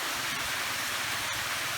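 A large waterfall flows down off a mountain into a reservoir, giving a continuous, loud rushing roar with a sharp click near the end and no voices.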